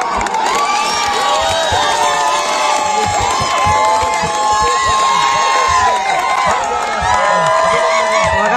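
A crowd at a village night cricket tournament cheers loudly as the match is being won, with shouts, whoops and children's voices layered into a continuous close roar.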